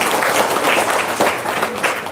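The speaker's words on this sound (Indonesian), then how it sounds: "Tepuk tangan dong, luar biasa." An indoor audience at a talk breaks into applause, a dense, loud wash of clapping that fills the short moment without any speech.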